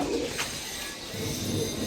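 Giribaz pigeons coo softly in a low, steady murmur over a continuous background hum, the calls blending into a dense, close texture without clear breaks.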